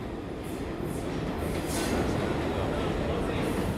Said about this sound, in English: That sounds like the rumble of our train.